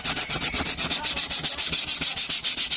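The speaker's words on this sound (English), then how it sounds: "sanding and cutting at the surface" Rhythmic back-and-forth sanding, a bright, raspy scrape repeating about six times a second, close and steady throughout.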